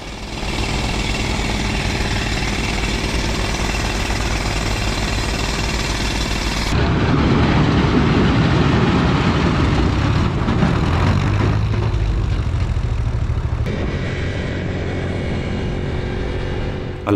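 Rock drilling for blasting along a mountain road, a steady loud mechanical drone with dense rattling that runs the whole time and grows heavier partway through, no voices.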